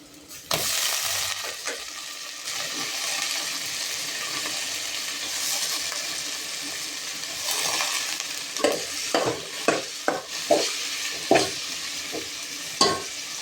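Prawns (shingti) hiss and sizzle in a hot pan, a loud steady fry broken near the end by several sharp clicks and taps of stirring against the pan.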